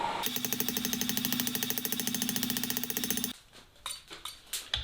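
Rapid, steady hammer blows ring out on hot steel at an anvil while fireplace tongs are forged, a dense metallic rhythm lasting about three seconds before breaking into a few scattered, quieter strikes and clanks.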